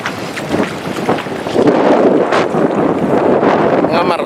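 Strong wind buffets the microphone with a steady roar, mixed with water and boat noise out on open sea.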